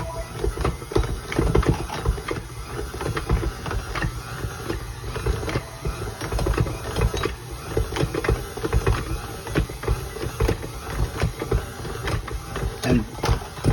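A pasta machine labours steadily, giving a dense mechanical whir with irregular knocking and clicking pulses throughout, fairly close and moderately loud, with no talking.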